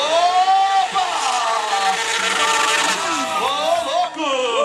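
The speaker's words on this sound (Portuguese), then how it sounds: "Acelera, Med." A motorcycle engine revs hard at a stunt motor show in an arena, its pitch rising and falling in sweeping surges over crowd noise, with an announcer talking throughout.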